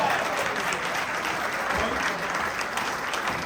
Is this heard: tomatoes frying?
no